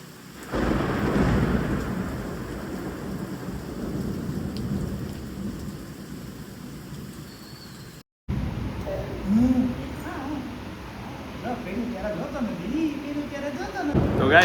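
Heavy rain pours steadily outside during a thunderstorm, with a dense roar of rainfall and rumbling thunder, loud and continuous across the clip apart from a brief cut, with soft voices faintly in the background.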